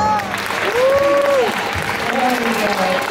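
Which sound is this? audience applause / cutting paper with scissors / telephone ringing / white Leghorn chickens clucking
audience applause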